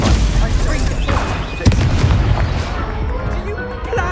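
Confringo spell blasts in Hogwarts Legacy, booming explosions and crackling impacts in the middle of continuous combat noise, with one sharp bang standing out amid a rumbling, busy fight.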